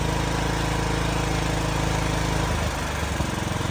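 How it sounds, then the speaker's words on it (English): A homemade generator engine runs loud and steady, then its pitch shifts partway through as the RPM changes on leaving eco mode. "Right now the generator is in eco mode. If we turn that off, the RPM will come up."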